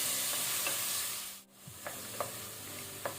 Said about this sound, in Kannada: ಆನಂತರ ಟೊಮ್ಯಾಟೊ ಹಾಕೊಳ್ಳುವ. ಟೊಮೆಟೊ ಸ್ವಲ್ಪ ಸಾಫ್ಟ್ ಆಗಲಿ.